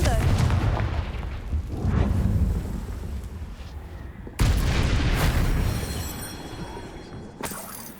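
The Confringo blasting curse explodes in Hogwarts Legacy, with booming blasts and a sharp, loud crack midway, followed by crackling debris and a rumbling tail. Faint voices are heard in the background.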